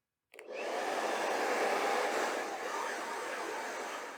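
A hair dryer switches on suddenly at its turbo shot setting and blows a loud, steady, rushing roar up close that holds for several seconds before easing slightly at the end.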